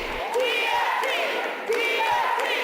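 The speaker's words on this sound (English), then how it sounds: "A roaring crowd inside as people are forced to wait to enter this school board meeting." A large, densely packed crowd of Detroit teachers at a school board meeting fills the room with continuous loud chanting and shouting, voices rising in rhythmic swells.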